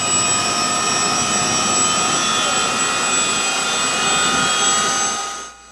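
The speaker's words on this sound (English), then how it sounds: "it was once again time to board the helicopter to head back to Belmopan" Steady helicopter engine and rotor drone, loud and close, holding for about five seconds before cutting off abruptly, heard at a military training exercise in Belize.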